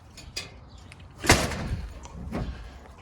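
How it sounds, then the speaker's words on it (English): A household door is pushed shut, giving a soft rattle and a firm closing thump, followed by faint settling knocks in a quiet room, with no voices. "And we close the door."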